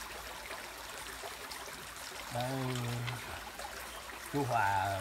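A stream flowing through a forest garden where people gather to eat and drink: a faint, continuous trickling wash beneath a voice talking nearby.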